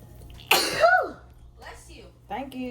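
A single sharp, loud sneeze bursts out in a kitchen during fried chicken prep, followed by brief talk nearby.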